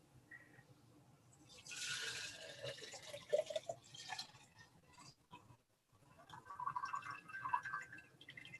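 Cordyceps alcohol extract being poured into a container, a soft liquid trickle and splash that swells in two separate pours and comes through quite faintly.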